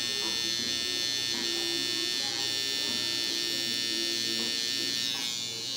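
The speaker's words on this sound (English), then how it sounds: "Clipper on." An electric hair clipper buzzes steadily while lining up a mustache, its close, loud hum carrying a faint pulsing as the blades move over the hair.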